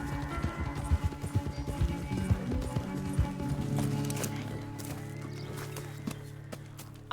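A horse gallops in Red Dead Redemption 2, its hoofbeats coming in quick, rhythmic, close thuds that slow and fade toward the end over a layered game soundscape.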